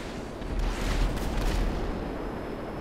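Missile launches and explosions in a video game fight, a loud rumbling boom swelling and fading over a couple of seconds with a dense roar beneath.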